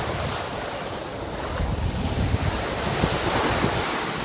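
Rough ocean surf rolls and crashes in a continuous roar, with heavy wind buffeting the microphone close up and no voices.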